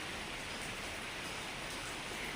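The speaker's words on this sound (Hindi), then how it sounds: "सावन आया भी नहीं है और अभी से बहुत अच्छी बारिश हो रही है।" Steady rain falls outdoors, a dense even hiss of drops that goes on without a break and with no voices.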